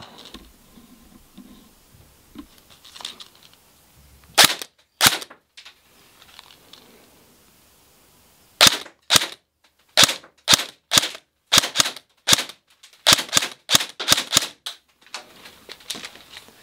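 An ICS Transform4 airsoft gun fires single shots, starting with a few scattered sharp snaps and then a quick, uneven run of about twenty close, crisp cracks separated by short silences.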